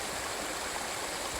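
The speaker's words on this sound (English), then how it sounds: "I think waterfall up there." Waterfall on a rocky valley slope in Nepal: a continuous broad rushing hiss of falling water, steady and even, with no voices.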